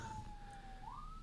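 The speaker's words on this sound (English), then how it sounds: "that's the ambulance going by" An ambulance siren passes by as a steady wailing tone that slowly shifts pitch, heard at a moderate distance over a constant background of traffic-like rumble, with no talking.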